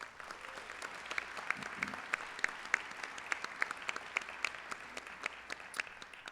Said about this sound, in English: Let's give our city a round of applause.